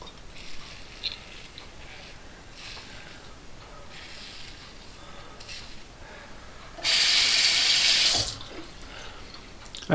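A bathroom faucet runs to rinse a razor during a wet shave, a loud, close gush of water lasting just over a second amid quieter rustling and faint trickles.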